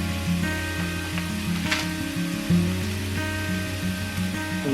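Ginger paste sizzles in a pan of drained, browned ground beef, a steady close crackle and hiss that carries on evenly under a faint constant hum.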